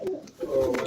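Pigeons on a pigeon farm give a short burst of low cooing nearby, two brief rolling phrases separated by a tiny pause.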